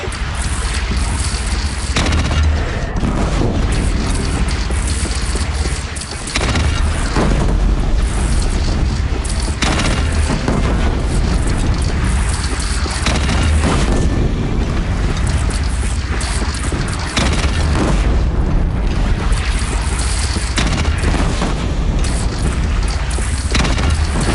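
Heavy cannon fire and explosions from a bandit battle in the video game Horizon Zero Dawn, as dense, loud, continuous booming and rumbling across the whole stretch with repeated heavy impacts.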